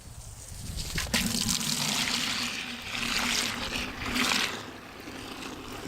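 Water runs from a hose into a big bucket for washing an F-350 diesel truck, a steady rushing pour that swells and eases over about six seconds with no talk.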